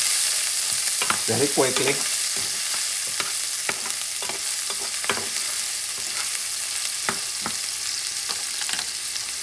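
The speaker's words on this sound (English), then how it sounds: "I'm going to put the onions, caramelize them." Onions sizzling over medium heat for caramelizing, a constant hiss punctuated by repeated scraping stirs and clacks of a utensil in the pan, with a brief spoken remark partway through.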